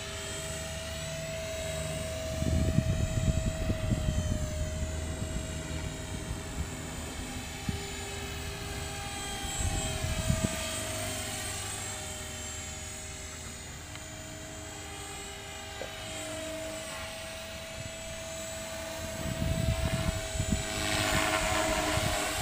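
An HK 450V2 radio-controlled helicopter flies indoors in an apartment, its rotor and motor giving a steady, close, high whining drone throughout, with brief louder surges as it maneuvers.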